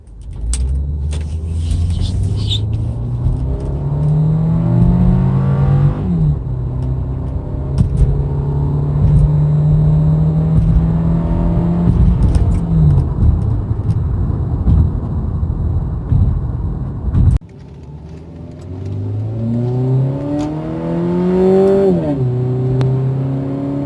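A Subaru Legacy engine with a Cosmo Racing cold air intake revs hard in repeated rising sweeps, loud and close, with a deep rumble and a brief drop-off before it revs again.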